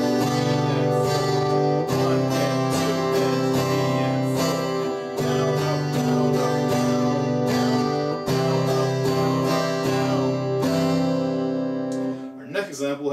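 Acoustic guitar strummed in an even pattern of four eighth-note strokes followed by two longer quarter-note strums, repeated steadily at moderate volume, with a brief noisy handling sound near the end.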